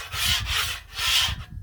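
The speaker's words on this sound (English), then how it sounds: "I better scrape off some of that bacon stuff so the eggs don't turn out black." Metal scraper dragged across a Blackstone griddle to clear bacon residue, giving two long, loud rasping strokes close up, each a broad gritty scrape, then a short quieter pass before stopping.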